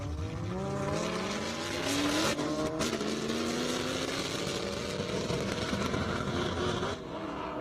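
A Corvette Z06 race car at an airstrip racing event runs with a rough, unhealthy-sounding engine: a loud, sustained mechanical roar with rising pitch, close and continuous, with no talk over it.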